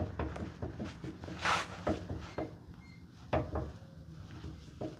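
A Land Rover Defender part is shaken side to side and gives a series of dull knocking clunks, irregular and close, with quiet pauses between the knocks.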